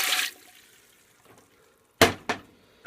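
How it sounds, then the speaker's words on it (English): Water is poured into a cooking pot holding cut-up meat, opening with a brief rush of liquid, then a quiet stretch followed by two short, sharp splashy bursts close by. "I'm going to pour the water"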